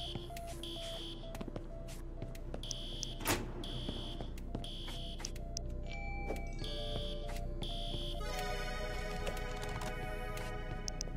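Rapid electronic fire alarm beeping in the Minimum Wage Simulator video game during a grill fire, repeating in steady bursts over busy in-game kitchen clatter and background music.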